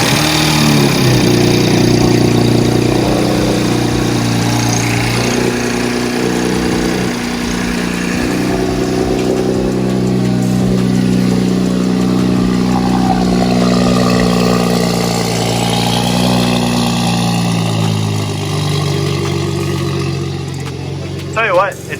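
A BMW B58 engine fitted with a stage 4 turbo kit idles steadily just after its first start, a low, even rumble running throughout beneath ongoing conversation.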